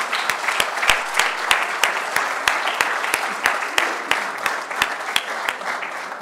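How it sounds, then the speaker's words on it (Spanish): Seminar attendees clap in a thin, evenly paced rhythm of distinct, separate handclaps, moderately close and fairly quiet. No voices are heard over the claps. "Así es que un aplauso para todos y sintámonos muy gratos."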